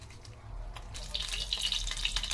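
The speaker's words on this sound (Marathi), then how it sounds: "तर आता सुकट आपण स्वच्छ पाण्यामध्ये धुवून घेऊया" Dried fish being rinsed in clean water, with soft splashing and trickling that grows busier after a quiet start, close and fairly faint.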